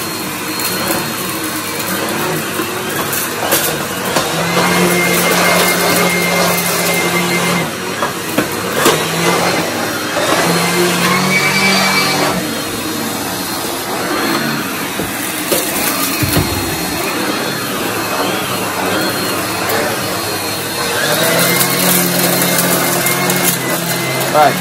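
A Numatic Hetty vacuum cleaner fitted with a turbo head runs loudly and steadily throughout, its motor drone and brush whirr holding even, with someone talking over it at times.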